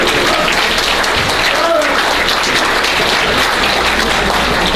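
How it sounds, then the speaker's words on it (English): Steady, dense applause from a luncheon audience at a fundraiser, a continuous wash of many hands clapping at full level throughout, with no pauses. "Let's give them a round of applause."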